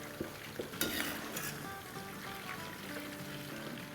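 Chicken frying in a pan gives a steady close sizzle with a few louder bursts of spatter near the start, running alone without speech.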